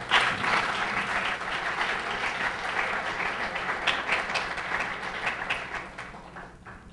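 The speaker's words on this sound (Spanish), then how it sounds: "Les brindamos un fuerte aplauso." An audience at a lecture session on science and faith gives sustained clapping, a dense, steady wash of applause that fades out near the end, with no talk.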